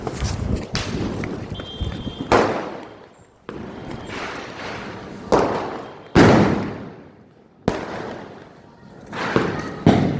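Four loud paper bomb firecracker blasts go off one after another, each a sharp bang followed by a fading rumble, with short gaps between, on Diwali.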